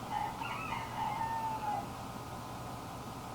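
Roosters crowing in the background during indoor reticella needle lace buttonholing, a couple of drawn-out, wavering calls in the first two seconds over steady room noise, fairly distant and moderately faint.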